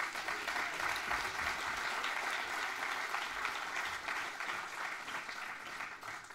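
An audience at a regional sports merit award ceremony applauds steadily, a dense, even wash of clapping that holds throughout with only a slight tapering.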